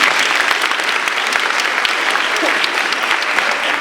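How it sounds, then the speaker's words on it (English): An audience applauds a class at a 2012 school prizegiving at St Clere's: thick, even clapping from many hands that fills the whole stretch without a break. "Round of applause for 11B1"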